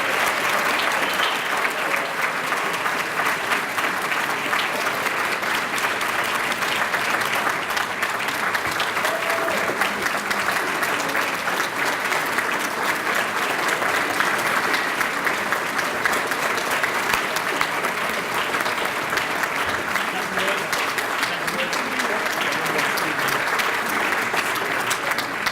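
Guests at a Hampton City Schools academic excellence banquet applaud their scholars with loud, steady clapping from a sizable crowd that continues evenly for nearly half a minute.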